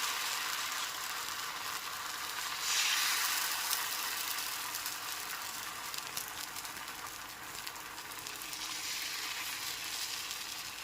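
Rice batter for sara chakli pitha sizzles steadily on an oil-brushed pan, a continuous bright frying hiss that swells briefly as a ladle of batter goes in, with no talking.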